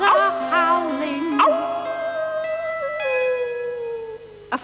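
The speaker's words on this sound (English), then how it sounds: "I'm listening to Towser, I can hear him howling, yes it's Towser howling." A dog howls in long, wavering, rising and falling tones, several drawn-out howls in a row, close and clear with no other sounds.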